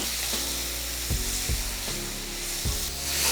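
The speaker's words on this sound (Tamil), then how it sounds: "வெங்காயம் தக்காளி நல்லா வதங்கிக்கிட்டோம்." Chopped onions and tomatoes sauté in oil in a pan for a South Indian lunch, a steady close sizzle broken by a few dull knocks of a spoon stirring against the pan.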